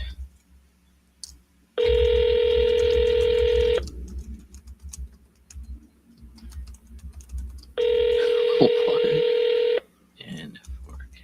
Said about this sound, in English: I'll double dial him.